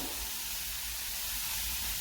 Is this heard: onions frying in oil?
yes